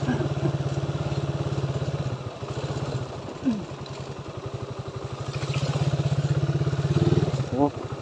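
Motorcycle ridden over a rough road, its close engine putting and pulsing with bumps and clatter, the rider talking over it throughout.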